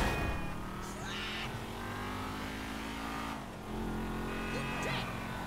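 A car engine in GTA 5 drives and revs with a steady drone, pitch sliding as it accelerates, alongside brief tyre squeals on a low-traction drifting car.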